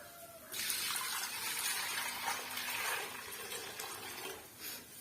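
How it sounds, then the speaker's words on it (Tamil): Water pours steadily into a metal idli steamer pot, a bright continuous splashing rush that starts abruptly and tapers near the end, with no talking. "இப்போ நம்ம தண்ணி வந்து சேர்த்துக்கலாம்"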